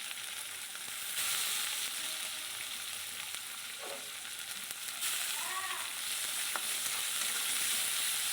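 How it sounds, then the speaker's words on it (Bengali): Grated, squeezed onion frying in a pan for a Bengali rui fish kalia: a steady, fairly loud sizzle throughout, with a few scrapes and stirring clinks from a spatula and no talk. "বেশ লাল লাল করে পেঁয়াজটাকে একটু ভাজতে হবে"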